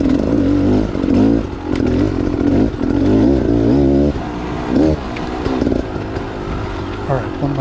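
Dirt bike climbing a rocky trail after ruts in second or third gear, the engine loud and close, revving up and down in surges with clattering over rocks and a rider talking over it.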